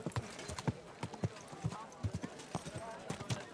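Steady clip-clop of horse hooves in a regular walking rhythm in the video game Kingdom Come: Deliverance 2, close and clear, with a voice talking over it.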